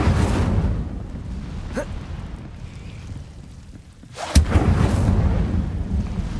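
An Incendio fire spell bursts in Hogwarts Legacy: a loud, rumbling whoosh of flame that fades, then a sharp crack and a fresh roaring blast.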